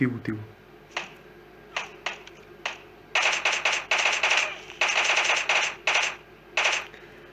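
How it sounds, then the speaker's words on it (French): Gunfire in a French-played shooter video game: isolated single shots, then tight bursts of rapid fire, sharp and close, with short gaps between volleys. "Oh, ça tire."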